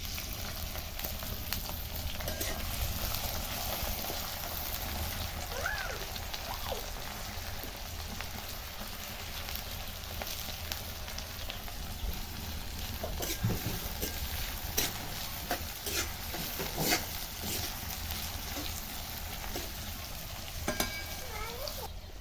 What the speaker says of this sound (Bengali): পেঁয়াজটা আরেকবার নেড়ে নেবো এভাবে।